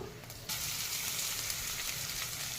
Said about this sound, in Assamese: কেইটামান সৰিয়হ গুটি পেলাই লৈছোঁ আৰু জিৰা কেইটামান